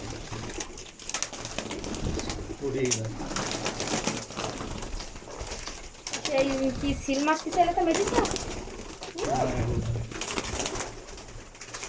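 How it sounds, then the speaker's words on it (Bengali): Pigeons coo repeatedly at close range in soft, throaty bursts, mixed with steady talking from people nearby. "এই কবুতরগুলো ভালো লাগে আমার"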